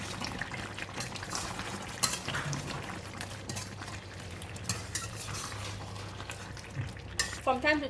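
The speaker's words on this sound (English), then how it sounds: "From time to time I came back and give it a stir" Chicken rendang curry is stirred in a pot, a spoon scraping and clinking against the metal over a low background bubble, steady through the stretch and ending in a brief burst of louder scraping.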